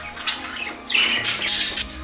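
Budgerigars squawk in short, harsh bursts as they fight, several shrill calls close by in quick succession.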